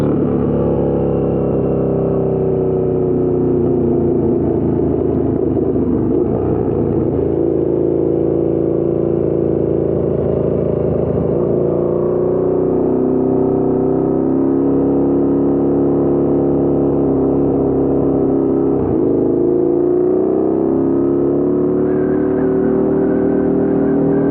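A 2014 KTM 1290 Super Duke R Gen 1 motorcycle engine while riding through corners, a steady loud drone with rising and falling revs and wind rush throughout, no talking.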